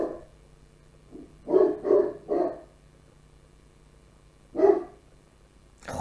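A dog barks in a quick burst of three sharp woofs at a moderate distance, then falls quiet before a single further bark, with a low steady hum underneath.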